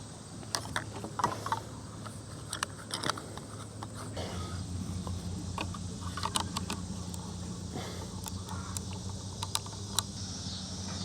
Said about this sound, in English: now we're just gonna screw this part in here